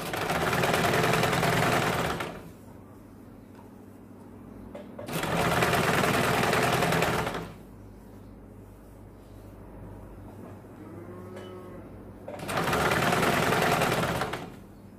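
A sewing machine stitching a blouse lining runs in three loud continuous bursts, each a few seconds long, separated by quieter pauses with faint handling noise.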